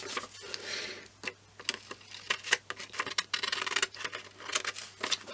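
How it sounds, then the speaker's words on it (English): Small craft scissors cutting paper for a December journal, close and clear, with a run of quick crisp snips and rustles coming in irregular bursts. "I don't know why I'm using my little scissors."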